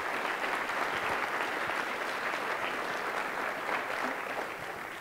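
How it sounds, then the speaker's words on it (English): An audience at a school board candidate forum applauds the multimedia staff member, a dense, steady wash of many hands clapping that holds for the full five seconds, tapering slightly at the end. "So please give him a round of applause as well."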